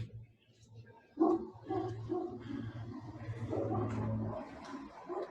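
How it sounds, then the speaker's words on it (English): A dog barks a few times at a distance, muffled and intermittent, over a low steady hum. "ignore the barking if you hear that"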